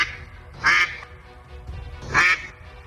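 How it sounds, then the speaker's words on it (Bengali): A cartoon mother duck quacks loudly in two separate bursts of harsh, nasal calls, each lasting about half a second, with quieter background between them. "মা হাঁস 3 হায়রার গুহার সামনে গিয়ে জোরে জোরে ডাকতে লাগলো"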